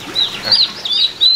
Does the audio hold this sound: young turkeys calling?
yes